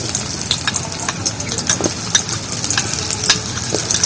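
Finely chopped onion fries in hot oil with a close, crackling sizzle full of small irregular pops and spits that rise and fall over a few seconds.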